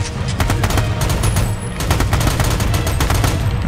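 Sustained suppressing gunfire from Army of Two on PS3 rattles on loud and continuous, rapid automatic shots stacked densely with slight pauses, close and dominant without speech.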